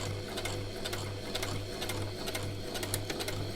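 A sewing machine runs continuously as it back stitches a fabric face mask, a close, steady mechanical whir with rapid needle clatter and no pauses.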